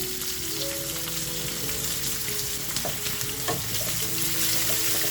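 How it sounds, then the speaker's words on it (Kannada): Onion, garlic, dried red chillies and curry leaves fry in hot oil for a tempering over a medium flame, a dense, steady sizzle close by with occasional stirring scrapes and a faint background tone. "ಈರುಳ್ಳಿ ಬೆಳ್ಳುಳ್ಳಿ ಒಣಮೆಣಸಿನ್ಕಾಯಿ ಕರ್ಬೇವಿನ ಸೊಪ್ಪು ಎಲ್ಲವನ್ನು ಫ್ರೈ ಮಾಡ್ಕೊಳ್ಳೋಣ"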